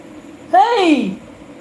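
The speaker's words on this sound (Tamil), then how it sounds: "பார், பூனை வந்துருக்கு." A single close, loud cat meow with a clear rising-then-falling tone, lasting about half a second over faint background noise.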